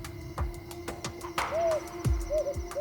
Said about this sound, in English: An owl appears in the wadis.